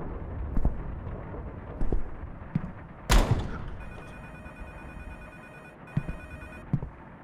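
A telephone rings in a dim apartment in the horror game Can't Revert. A loud crash comes first, then a long electronic ring, a brief pause and another ring, with soft footsteps and thuds around it.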